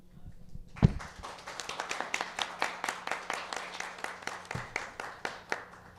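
At a book presentation at the FILPM book fair, an audience breaks into applause after a short pause, with distinct claps in a quick, fairly even rhythm close by, fading out after several seconds.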